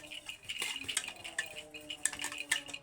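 Steel plates are handled and greased with oil by hand, giving light, irregular metallic clinks and taps with soft scraping, quiet and close, without talk.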